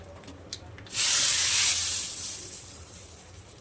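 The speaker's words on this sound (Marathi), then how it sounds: "थोडंसं हिंग पण टाकायला त्याच्यात. तडका देऊयात आता मस्त." Hing dropped into hot oil for a tadka makes a sudden loud hiss about a second in, which fades slowly over the next two seconds.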